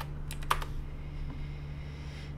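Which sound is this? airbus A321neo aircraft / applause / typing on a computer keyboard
typing on a computer keyboard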